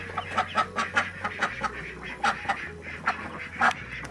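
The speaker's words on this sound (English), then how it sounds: "I want to show you the little baby ducks, but Matilda hates it so much." Baby ducks quacking at close range outdoors, a run of short, bright calls repeating in an irregular rhythm over a low steady background hum.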